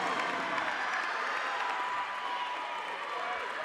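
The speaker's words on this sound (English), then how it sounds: "Her proud parents over there in the corner cheering her on" Parents cheer and clap from a corner of the gym during a high school volleyball semi-final, a steady crowd roar with applause blended into the background noise.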